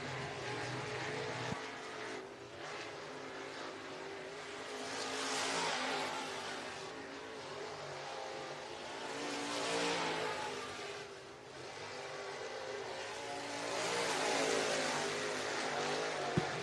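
Crate late model race cars at Pike County Speedway, engines roaring past in repeated swelling waves as the pack circles the track, heard from a distance with continuous crowd-track ambience.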